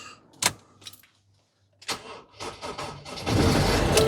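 An old Ford Transit 2.2 TDCi diesel is cranked from cold with brief glow-plug heating. It gives a few short, uneven turns and a pause, then catches into a loud, rough, clattering idle up close.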